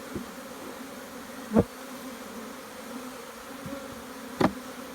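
Honeybees buzz steadily around an open nuc hive box, a faint continuous hum with two sharp knocks as the box is handled.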